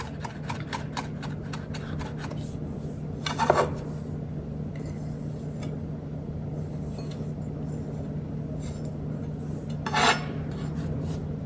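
Knife chopping parsley on a cutting board: a quick run of light, crisp taps early on, then sparse knocks and scrapes of the blade against the board, close and fairly quiet.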